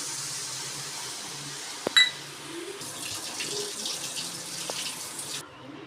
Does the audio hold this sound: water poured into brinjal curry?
yes